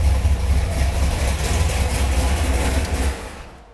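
Car engine running steadily after a battery cranking test with a TOPDON BT200 tester, a loud close low rumble that holds evenly, then fades out at the end.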